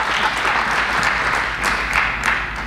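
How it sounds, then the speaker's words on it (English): A room full of people applauding, steady and fairly loud throughout with no pauses. "Clap it up for Larry and Michelle."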